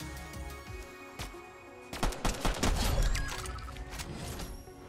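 Pistol shots in the video game Fortnite, a few sharp cracks in quick succession over busy game noise, with a louder flurry of impacts in the middle of the stretch.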